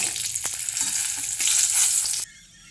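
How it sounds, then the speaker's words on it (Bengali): Bay leaves and dried red chillies dropped into hot oil, a bright loud crackling sizzle with a few sharp pops that cuts off abruptly near the end to a quiet room. "তো তেজপাতা, শুকনো লঙ্কা দিয়ে দিলাম"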